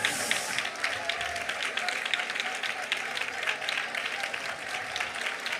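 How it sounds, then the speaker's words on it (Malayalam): A church congregation at a Malayalam Christian service applauding together, steady, even clapping from many hands throughout, fairly loud and continuous with no pauses. "കൈയടിക്കുന്ന നേരെ കൈയടിക്കൂട്ടി."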